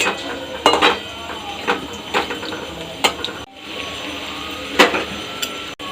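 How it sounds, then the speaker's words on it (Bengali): Sharp metallic clinks and scrapes of a utensil against a karai as bora fritters are turned one by one over a low flame, coming in separate close taps with quiet gaps between. "দেখো দেখো আমার এক পিঠ ভাজা হয়ে গেছে আর এক পিঠ আমি বড়াগুলো উল্টে দেবো"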